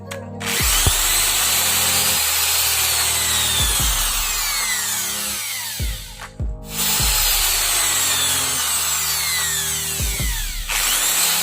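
A power drill bores holes through PVC pipe, several loud whining bursts that rise and fall as the bit spins up and cuts, with short pauses between holes and no talking.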